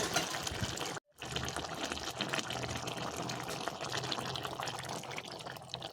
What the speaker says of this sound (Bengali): এবার আমি এখানে দিয়ে দেব গুলে রাখা অ্যারারুট।